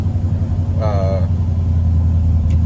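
A modified Jasper Blueprint 351 V8 in a vehicle with a T18/T19 four-speed and 205 transfer case runs at a steady idle, a continuous deep rumble close by, with a brief voice near the start.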